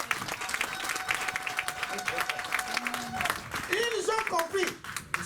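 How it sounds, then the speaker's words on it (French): Church congregation applauding at a sermon, dense clapping filling the space with cheers and voices calling out over it, steady and loud throughout. "donnons une acclamation au Seigneur"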